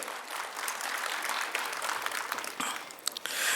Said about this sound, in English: So I request you to all give a loud applause to the efforts of C.A. S.S. Nayak sir.